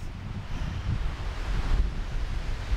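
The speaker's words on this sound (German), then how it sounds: "Der Wind, der ist immer noch stark" Strong storm wind roaring through a forest at a trekking campsite, a dense low rumbling gusty rush with microphone buffeting, loud and unbroken with no voices.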